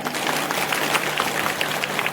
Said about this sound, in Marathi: एकदा आपल्यासाठी टाळ्या वाजवून टाका